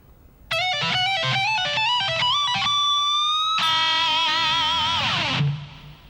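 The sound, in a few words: Guitar lick number 3 on electric guitar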